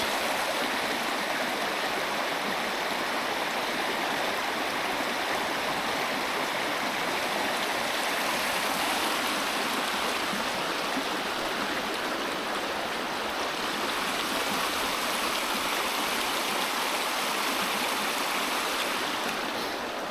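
A clear, ice-cold stream in Tioga State Forest, Pennsylvania, rushes steadily and fairly close, a full, unbroken wash of flowing water with no voices over it.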